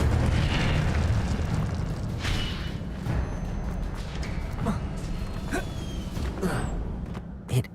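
The Incendio fire spell goes off in a wizard video game, a loud whooshing burst of flame that roars at the start, then settles into crackling rumble with a few sharp pops.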